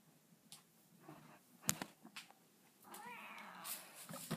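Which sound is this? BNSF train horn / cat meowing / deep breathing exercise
cat meowing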